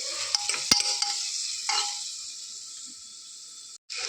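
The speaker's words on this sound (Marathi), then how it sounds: "तर कांदा पण भाजायला ठेवला आहे आणि कांद्याबरोबर थोडा खडा मसाला पण मी टाकलेला आहे त्याच्यामध्ये" Onion and whole spices roasting in a pan for a mutton dish, a steady close sizzle with a short scrape of stirring near the start, then fading and briefly cutting out near the end, with no talk.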